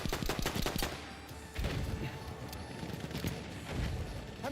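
Enemy machine-gun fire in the World War I shooter Battlefield 1: a loud, fast rattling burst up front, then heavier booming impacts and more scattered shots.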